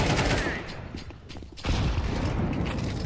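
Rapid bursts of gunfire ring out in a shooter video game, loud and dense at first, dropping briefly, then returning in a heavy volley, with faint voices underneath.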